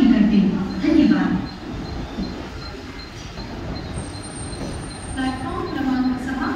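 A Mumbai local train rumbles at a station platform with wheels grinding and squealing and a low engine hum, loud and close, while a public-address announcement plays over it.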